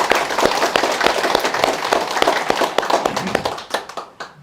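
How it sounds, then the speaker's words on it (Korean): A church congregation clapping in comfort for a missionary, a brisk burst of many hands with distinct sharp claps standing out, close and lively, thinning and fading out over the last second. "우리 김만희 선교사님 기억하면서 위로하는 박수 한번 드리겠습니다."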